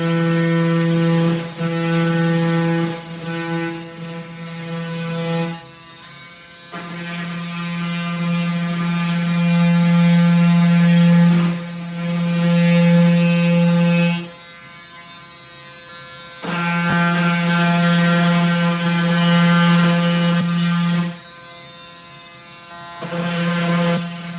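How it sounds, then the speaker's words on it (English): An oscillating multi-tool trimming an electrical switch box gives a loud, steady buzzing drone that runs in several long bursts, each lasting several seconds, separated by short pauses where the tool stops. "Just grab my multi-tool again, shave it a little bit."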